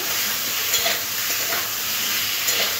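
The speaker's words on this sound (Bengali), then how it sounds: "আদা জিরে বাটাটাও সবজির সাথে একটু মিশিয়ে নিতে হবে।" Ginger-cumin paste being stirred into vegetables frying in oil with onion, giving a steady close sizzle with soft scraping stir strokes throughout, no voices.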